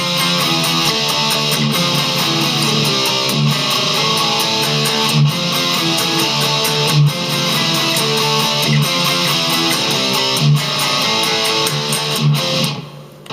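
Heavy distorted electric guitar plays a palm-muted downstroke riff, a dense, chugging, loud stream of low notes with steady accents, ending abruptly.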